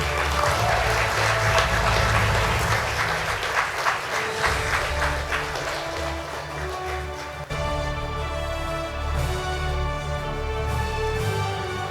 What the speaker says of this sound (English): Please help me in applauding Mr. Chase Buffon.